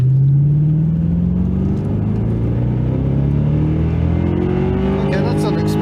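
A Lincoln MkVIII with a 4-speed automatic accelerates hard from inside the cabin, engine note climbing steadily, dipping at a gear change, then rising again, loud and continuous under road noise.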